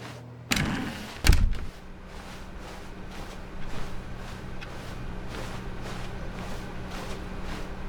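A door opens in The Stanley Parable video game, with a sharp clunk and a heavier thud a moment later, then a low steady office hum.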